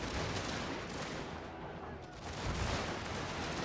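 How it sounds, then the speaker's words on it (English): Dense gunfire and artillery in a war strategy video game, a continuous wash of overlapping shots and booms with a swelling burst near the end, fairly faint overall. "Alright, we're starting to fire on them."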